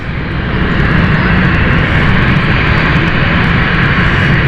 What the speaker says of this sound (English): So Berlin flight is now taking off, or about to take off.